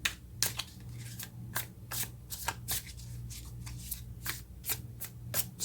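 Tarot cards are shuffled and drawn by hand in a quick series of crisp riffling bursts and soft slaps, close and fairly quiet, with brief pauses between shuffles.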